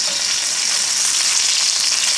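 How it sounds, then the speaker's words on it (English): Chicken breast paillard sautés in a hot pan with a dense, steady sizzle and fine bubbling crackle, close and loud, with no talking. "As long as you hear the bubbles like that, then you know we're sauteing"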